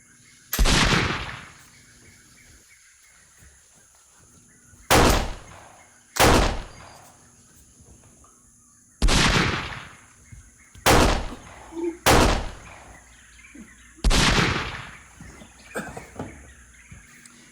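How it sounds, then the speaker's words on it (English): Seven musket shots from a pirate fight, added as sound effects to a Treasure Island audiobook reading, each a sharp crack with a short echoing tail, fired singly and in close pairs at irregular intervals over faint background hum. "3 musket shots flashed out of the thicket"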